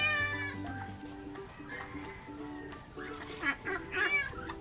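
Young domestic ducks kept at home call in a run of high, rising peeps and squeals, close and fairly loud, growing busier toward the end over a low steady background hum.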